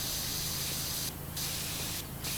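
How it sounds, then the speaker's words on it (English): Pressure washer spraying in the PowerWash Simulator video game, cleaning a lantern: two short bursts of hissing spray over a steady low background hum, with no talking. "And spray the other side of the lantern."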